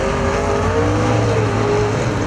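A figure 8 race car at Perris Auto Speedway roars around the track, its loud engine a steady, close drone that holds for the whole stretch with no pause.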